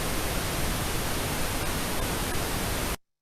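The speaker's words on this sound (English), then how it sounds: "It sounds like white noise, but a little less" Pink noise plays as a steady, even hiss that sounds softer and less harsh than white noise. It is loud and constant with no voices, then cuts off abruptly just before the end.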